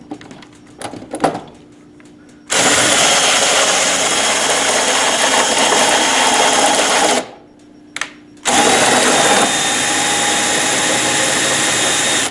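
Cordless drill spinning a length of all-thread to drive the carriage of a shop-built drum thickness sander on a Shopsmith, in two steady whirring bursts with a short pause between, loud and close.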